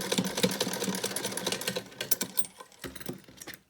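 A sewing machine runs a reverse stitch on a homemade fabric face mask with nose wire, giving quick clattering mechanical bursts up close. The stitching thins into scattered ticks and taps near the end.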